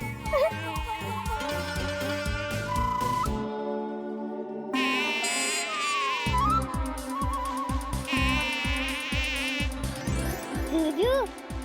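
A cartoon mosquito buzzes with whiny, wavering tones alongside animated sound effects and music, steady throughout the scene with no speech over it.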